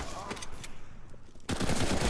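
Rapid spray-style automatic gunfire from a first-person shooter video game, with a brief lull followed by a loud, dense burst of shots.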